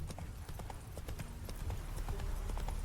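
Roach's hooves pound in a quick, even galloping rhythm in The Witcher 3, close and steady for a few seconds with a low rumbling bed underneath.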